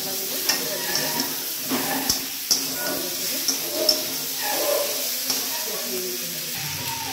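Potatoes fry in oil with turmeric and spices for a spicy fish curry, giving a steady sizzle broken by regular scraping stirs of a spoon against the pan.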